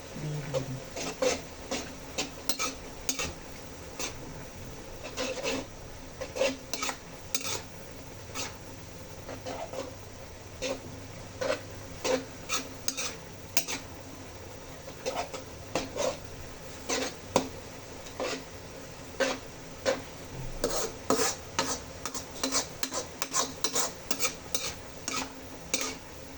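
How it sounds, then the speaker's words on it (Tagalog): Bihon rice noodles are stirred in a frying pan, giving a steady run of soft scraping and clinking utensil strokes over a faint sizzle across the whole stretch, with no talking. "Haluin lang po natin para pantay-pantay po ang pagkaluto ng bihon."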